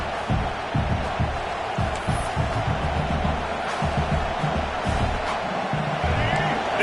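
A stadium crowd at a football game roars in a dense, steady wash that holds loud throughout, with a commentator's voice running over it.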